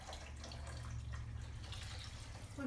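A whole bottle of sake poured into a cooking pot for beef sukiyaki, a soft, steady trickling splash with a low rumble beneath, fairly quiet and continuous.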